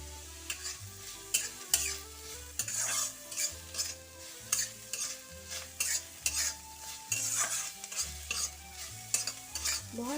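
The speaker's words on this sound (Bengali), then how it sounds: "পেঁয়াজ আর রসুন নরম হওয়ার জন্য অপেক্ষা করব।" Onion and garlic cook in an iron wok for a Bengali mochar chop, with a steady sizzle and frying crackle. Repeated scrapes and stirring strokes of a utensil against the metal sound loud and close throughout.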